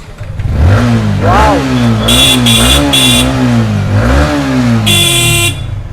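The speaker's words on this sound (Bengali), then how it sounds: "সামন্ত দেখাও একটু স্টার্ট করে শোনাবো এই গাড়িটা এমপি টানি সাউন্ডটা একটু শুনে নাও" A 2024 motorcycle engine at a bike showroom in Kolkata runs loudly and revs up twice, with sharp horn-like bursts cutting in over the steady engine note.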